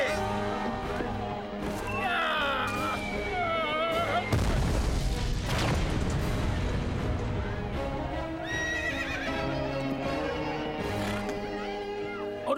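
A Sherman tank, American army surplus, fires its main gun in a single loud booming blast partway through, amid horse whinnies and clip-clopping hooves, with a tonal background throughout.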